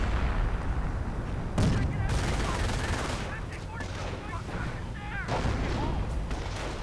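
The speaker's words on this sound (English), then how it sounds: "machine gun fire and every other sort of thing flies" Machine gun and artillery fire in a World War II strategy video game battle, a dense continuous rattle of gunfire with occasional heavier booms, steady and busy beneath a voice commentating.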